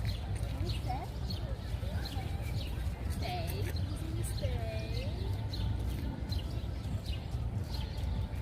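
Birds sing in Central Park in New York City, thin chirps and short warbling calls rising over a steady roar of ambient city and park noise, with voices faintly present.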